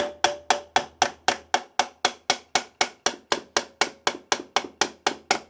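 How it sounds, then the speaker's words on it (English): Rapid, steady hammer taps on Yamaha YZ125 two-stroke engine cases being split apart, about twenty sharp metallic knocks in quick even rhythm, close and loud with no talk. "we've just wobbled it around, give it a bit of a tap"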